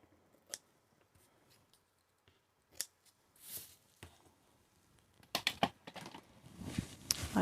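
Scissors snipping through ribbon while making a white-on-white greeting card, several sharp crisp cuts spaced irregularly and then quickening into a cluster of close snips near the end, up close with no talk.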